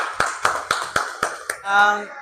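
An audience of schoolchildren claps hands in six separate, evenly spaced claps in a classroom, ending with a short burst of voice.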